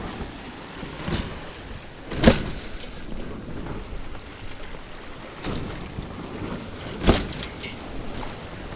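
Wind rushes steadily over a single-handed sailboat offshore at about 7 knots, with faint water wash and a few sharper gusts buffeting the microphone.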